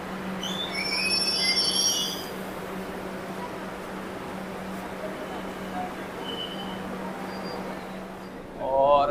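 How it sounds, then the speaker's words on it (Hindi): Kolkata metro train pulling into an underground station, a steady rumbling roar with a constant low hum and squealing wheels early on, fairly loud and continuous, with a brief sharp rise in noise at the very end. "ट्रेन आता है और देखते हैं"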